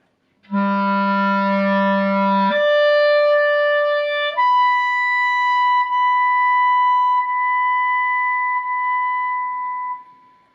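A clarinet plays an embouchure warm-up of three sustained tongued notes, each stepping higher and held for a few seconds, clear and solo in a quiet room.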